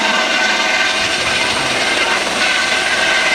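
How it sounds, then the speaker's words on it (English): A hospital helicopter descends near a high school football field, its rotor and engine a loud, steady, close roar with no break. "We got just a hospital helicopter coming down."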